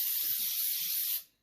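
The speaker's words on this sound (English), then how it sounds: "use Pam cooking spray" Pam cooking spray sprayed onto a waffle iron, a single close, steady aerosol hiss lasting about a second before cutting off quickly.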